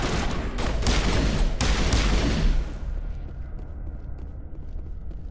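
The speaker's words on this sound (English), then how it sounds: "My new pistol really shoots with a thud." Rapid pistol gunfire in the Mass Effect video game, a dense burst of heavy, thudding shots booming loudly for about two and a half seconds before the sound drops to a lingering, quieter rumble.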